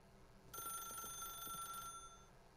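A telephone in The Stanley Parable rings with a single bright, electronic trill held for more than a second, clear and fairly close above a quiet, faintly humming backdrop, with no voices.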